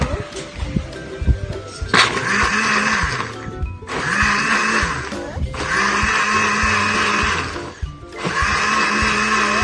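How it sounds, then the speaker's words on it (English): A blender blending sweet potato leaves into juice roars loudly up close, running in several long bursts separated by brief pauses when the motor cuts out. "The blender is super noisy."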